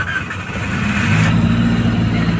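A car engine catches and settles into a steady, loud idle right next to the listener, a continuous low hum with a faint rising tone underneath.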